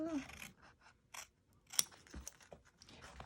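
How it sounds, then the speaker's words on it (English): Applique scissors snipping through fabric while a bag is being sewn, a handful of separate crisp cuts and soft crunches close up, with quiet gaps between them and no talking. "grab your applique scissors"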